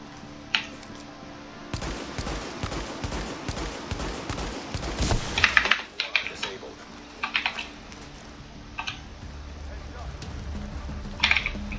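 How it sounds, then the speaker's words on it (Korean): Rapid bursts of video game gunfire crackle in a dense volley, followed by scattered single shots and rustling movement at a moderate distance. "총소리가 났으니 주변에 적이 있으면 달려올 만한 적이 있다"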